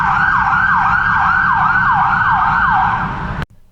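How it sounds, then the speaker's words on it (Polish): A wailing emergency vehicle siren sweeps up and down repeatedly over the low rumble of heavy traffic in Malta, loud and close, cutting off suddenly near the end. "Jedzie coś na sygnale"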